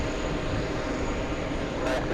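A Boeing 757 airliner at JFK airport produces a steady, broad engine roar that stays constant and loud throughout the short stretch.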